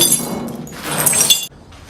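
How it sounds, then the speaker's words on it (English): Shards of broken glass crunch and clink together in a short rattling burst inside a train, bright and close, then stop abruptly. "There's lots of broken glass in here."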